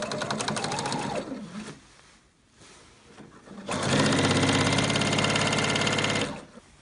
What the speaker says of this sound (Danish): Så jeg syr nu en kanal, hvor jeg kan få skubbet næseklemmen ind op i toppen.